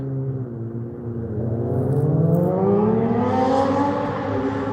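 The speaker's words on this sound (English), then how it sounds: "There goes the motorcycle." A motorcycle engine drives by with a steady droning rumble. Its pitch climbs as it accelerates, then it fades slightly as it moves off.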